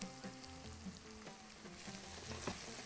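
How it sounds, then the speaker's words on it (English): Onions sautéing in a pan, a quiet, even frying hiss with faint low hum and occasional soft pops, close but low in level. "We just need to caramelize the, or saute the onions"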